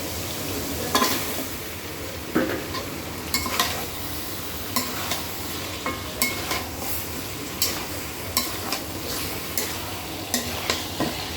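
Meat hits a pan of cooked-down spice masala and sizzles steadily, while a spatula scrapes and clinks against the pan in a regular rhythm.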